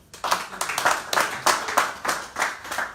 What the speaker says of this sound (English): Can you guys clap for her?